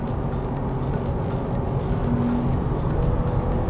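A Honda Civic e:HEV RS hybrid accelerating at full throttle, a loud, steady engine and road roar from inside the car, with no talking.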